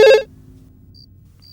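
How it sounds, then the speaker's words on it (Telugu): Telephone ringing: one short, loud ring burst at the very start, cut off abruptly and followed by near silence with faint high beeps. "నేనే కాల్ చేసి నేనే రిసీవర్ తీసి కింద పెడుతున్నాను"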